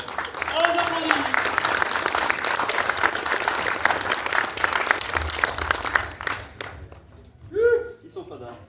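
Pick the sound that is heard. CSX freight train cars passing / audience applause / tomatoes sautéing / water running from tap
audience applause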